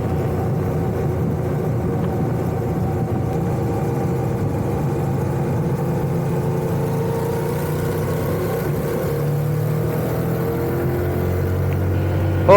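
Honda Rebel 1100 DCT cruiser motorcycle engine droning steadily while riding through a turn, a close continuous hum with wind rush and slight pitch shifts, no talk.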